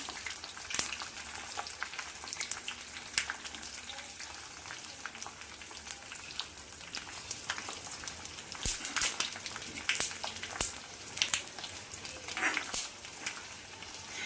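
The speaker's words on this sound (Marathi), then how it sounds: "जोपर्यंत मेथीचे दाणे काळे होत नाही तोपर्यंत कडक करायचं एकदम" Fenugreek seeds fry in hot oil for an Ayurvedic hair oil, giving a steady close sizzle with scattered crackles and pops, heard alone with no talking.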